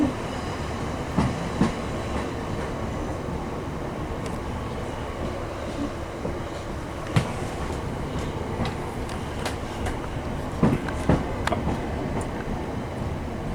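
A train rolls into a London station on a service from Kent, giving a steady low rumble with faint wheel clicks and occasional louder knocks throughout, heard from the platform with no talking.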